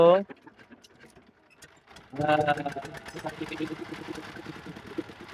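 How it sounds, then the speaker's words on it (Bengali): A river boat engine on the Jamuna coughs to life after a brief burst of sound and a quieter pause, then settles into a close, rapid mechanical chugging that continues steadily. "এই তো আমাদের নৌকা স্টার্ট শুরু হয়ে গেল"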